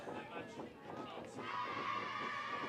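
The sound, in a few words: crowd and softball players cheering loudly from the bench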